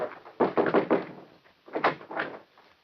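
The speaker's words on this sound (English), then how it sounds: "In that case, I'll knock." Knocking on a door in a 1947 film, a quick cluster of several firm raps followed by a second, looser group of knocks, close and fairly loud with no voices.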